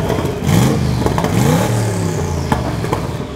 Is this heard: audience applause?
no